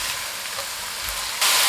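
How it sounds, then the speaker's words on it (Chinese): Shredded potato and carrot stir-fried in a wok with scallion, ginger, garlic and dried chili, giving a loud, steady, close hiss of sizzling oil that swells sharply near the end, with no talking. "翻炒均匀"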